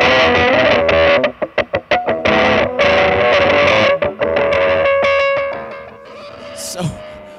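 A Death By Audio Deep Animation effects pedal pushes a guitar into nasty, filtered distortion. Loud, dense fuzz swells and chops in rhythmic stabs, then rings out with a whistling, sweeping filter tail.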